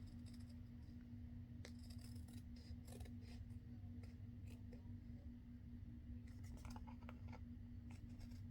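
Scissors snipping an index card for an altered papercraft project, a few short crisp cuts spread apart over a steady low hum.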